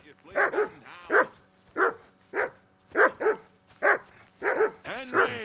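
A dog barks repeatedly in Kingdom Come: Deliverance II, delivering a steady run of about a dozen sharp, close woofs with some whimpering yips mixed in.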